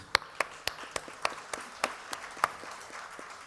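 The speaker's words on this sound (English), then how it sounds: "Round of applause for Keith." A small conference audience gives a sparse round of applause for a speaker in an arena stage setting. A few distinct, fairly close claps sound irregularly over a quiet room.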